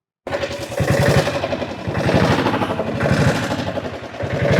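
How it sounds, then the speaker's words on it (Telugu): A diesel motorcycle engine runs steadily nearby, its low, chugging thump pulsing rapidly and evenly with a slight rise and fall in intensity. "డీజిల్ డీజిల్ ఇంజిన్ మీద రైడ్"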